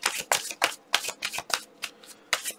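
Tarot cards are shuffled in quick riffling bursts, about eight crisp papery flutters in a fast, even rhythm, close and clear with no talking.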